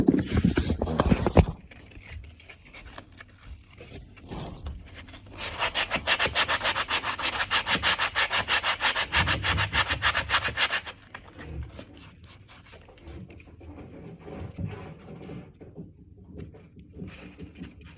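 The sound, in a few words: sanding MDF woodwork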